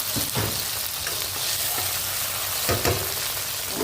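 Tomatoes fry in a hot pan with oil, a close, continuous sizzling hiss with a few brief louder spatters as they are stirred.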